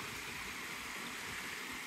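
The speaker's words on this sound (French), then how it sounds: "Mais c'est vraiment agréable, la petite cascade à côté." A small waterfall beside an eco-lodge produces a steady, soft rushing of falling water, continuous and moderately faint, with no voices.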